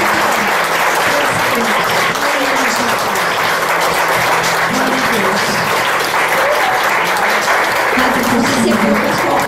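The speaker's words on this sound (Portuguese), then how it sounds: "Mais uma vez eu quero que você tenha uma salva de palmas" A church congregation at a Baptist home service applauds steadily and loudly throughout, a dense continuous roar of clapping with voices faintly mixed in.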